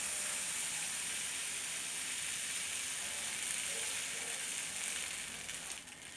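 Dosa batter for podi dosa sizzles on a hot pan with a steady, close frying hiss that stays even and eases slightly toward the end.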